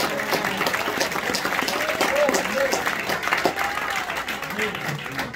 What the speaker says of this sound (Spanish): ¿Por qué no le aplaude al Señor con libertad?